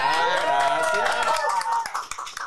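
Clapping breaks out close by while people cheer and talk loudly over it, the claps continuing as the voices fade.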